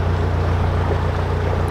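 A canal boat passes slowly along a narrow canal on the Llangollen aqueduct route, its engine a steady low throbbing drone that holds constant throughout, close by and unaccompanied by talk.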